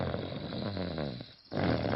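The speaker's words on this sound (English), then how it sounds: "It sounds like snoring." Low, rasping cartoon snores from Daddy Pig in Peppa Pig rumble steadily, then briefly stop before starting up again loudly.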